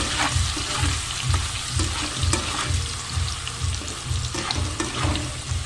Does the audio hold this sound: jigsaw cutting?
no